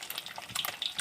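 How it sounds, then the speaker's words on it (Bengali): An egg frying in hot oil, being turned over, crackles and spits in a brief, close, busy sizzle. "এভাবে উল্টে পাল্টে ভেজে নেবেন"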